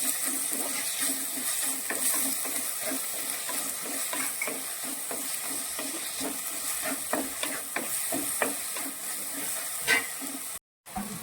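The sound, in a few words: sautéing sardine mixture in a pan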